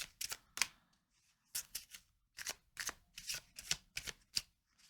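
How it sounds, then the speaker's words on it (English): A deck of tarot cards being cut and riffled, a series of crisp close flicking bursts in uneven clusters separated by short silences, with no talking. "I'm going to cut the cards"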